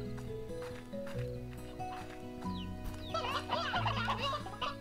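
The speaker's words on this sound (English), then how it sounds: "The chickens seem to be doing well." Chickens cluck faintly in the farming video game Slime Rancher, a soft, busy scatter of clucks and chatter growing livelier toward the end over a steady backdrop of game music.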